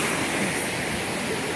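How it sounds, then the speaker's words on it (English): A round waterfall out in nature gives a dense, steady rushing roar, even and unbroken throughout the brief moment, with no voices. "this waterfall is not even 5 minutes from us"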